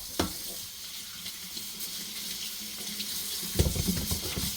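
Green bananas are washed under a running kitchen tap, a steady broadband rush of water with a couple of louder splashing bursts as the fruit is handled, with no talking.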